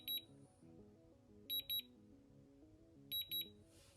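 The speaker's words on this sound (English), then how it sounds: "wait for the beep." A handheld digital scale weighing a telescope setup gives high, thin electronic beeps in quick pairs or triplets, repeated three times over a faint, steady tonal background.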